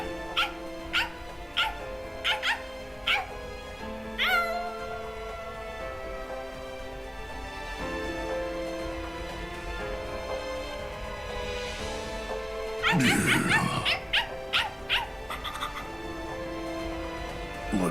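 A dog in the Bleach: Rebirth of Souls video game gives a run of short yips and barks, then a softer whimper, and later a burst of barking, all set over a sustained musical background.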